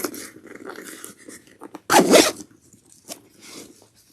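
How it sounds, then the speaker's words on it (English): A zipper on a crossbody bag is pulled in several short, scratchy bursts, with one longer, louder zip near the middle. All of it is close by, with quiet handling noise between the pulls. "And don't be afraid to pull and unpull your zipper pulls."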